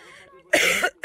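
A single harsh cough bursts out close by after a brief throat sound, followed by the start of a second cough, outdoors on a warm evening at a school fair.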